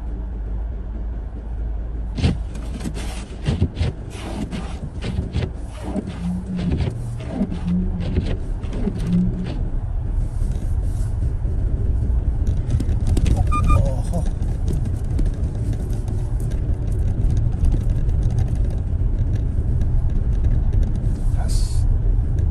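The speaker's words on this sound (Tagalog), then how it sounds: "yung mga bulldozer, mga truck, bulldozer, payloader pala ang tawag niyan, trail, tapos yung mga truck may pangkayod sa unahan" Snow-clearing trucks with front scraper blades, bulldozers and payloaders working in deep snow at about -23 degrees, heavy engine rumble building and holding, with scraping clatter bursts early on.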